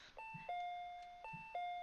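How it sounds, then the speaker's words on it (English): Doorbell in the RPG Maker game Paranoic chiming twice as a two-tone ding-dong, each chime a bright electronic tone pair, clear and alone against a quiet background. "I assume that was the doorbell."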